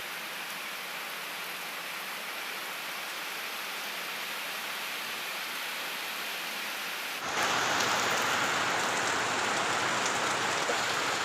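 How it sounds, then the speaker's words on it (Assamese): Steady rain falls in a soft, even hiss, then abruptly grows heavier and louder partway through, continuing as a dense downpour with no voices. "বৰষুণ দিব বুলি কওঁতে বৰষুণ আনিলে।"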